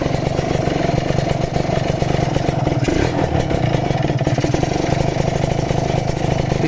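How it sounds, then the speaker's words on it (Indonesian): A two-stroke Kawasaki Ninja engine idles close by with a rapid, rattly, buzzing putter, steady and loud throughout. "Nah ini suara idalnya, dengerin sama teman-teman."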